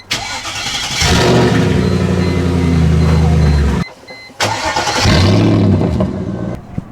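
A Mercedes C43 with a manual conversion revs hard twice with its V-band exhaust clamp undone, a loud, close, raw engine roar that holds for a few seconds, cuts off, then surges again.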